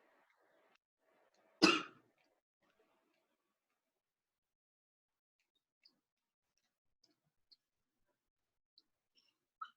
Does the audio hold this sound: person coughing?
yes